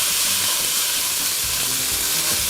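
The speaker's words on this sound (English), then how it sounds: "I'm gonna pop that into my frying pan" Loud, close sizzling of ground beef frying in a pan on medium heat, a constant crackling hiss with occasional spatters and the scrape of stirring.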